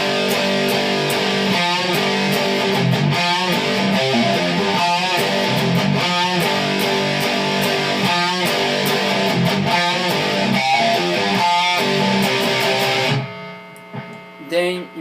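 Distorted electric guitar plays a song's main riff, a chugging, palm-muted rock pattern with accented power-chord stabs, loud and steady throughout, stopping abruptly near the end with a brief trailing noise.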